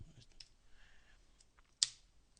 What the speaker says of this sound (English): by just typing in the IP address and hitting enter